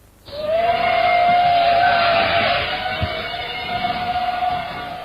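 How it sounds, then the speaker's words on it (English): A loud, steady mechanical hum starts abruptly and drones on at one pitch, like drones hovering overhead. "then you will hear the hum of drones in the sky."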